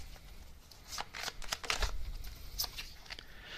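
Tarot cards shuffled by hand and drawn from the deck, giving a quiet flurry of soft riffling flicks in several short bursts, close and fairly faint with no talking.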